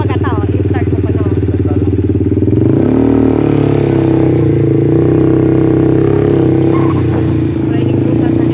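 An ATV engine starts and settles into a loud, steady running rumble close by, with a pitch rise near the start, as people chat in Filipino on the way to a beach.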